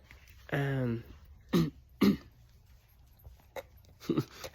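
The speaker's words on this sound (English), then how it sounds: "not supposed to clear my throat." A single sustained throat-clearing rasp, followed by a few short vocal bursts and faint low murmurs in a quiet room.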